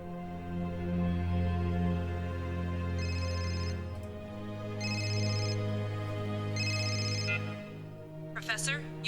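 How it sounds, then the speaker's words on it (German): A telephone rings in the video game Serious Sam III with three evenly spaced electronic trilling bursts over a loud, droning game soundtrack. "Ah ja, das Telefon, genau."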